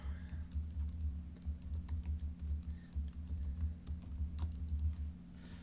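Quick keystrokes on a computer keyboard while an email is entered, a light irregular clatter close by with a steady electrical hum beneath.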